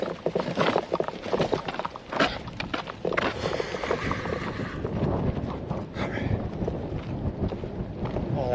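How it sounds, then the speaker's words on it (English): Wind gusting hard across an outdoor microphone on a city walk, a loud continuous rumble and buffeting with brief lulls, and faint voices underneath. "That wind is nice."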